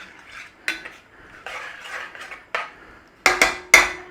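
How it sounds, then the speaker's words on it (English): A stainless steel spoon stirs and scrapes in a stainless steel pan while cranberry sauce is being made, giving several close, bright metallic scrapes and clinks, with sharper, louder taps near the end. "Now this is a stainless steel pan. This is a stainless steel spoon."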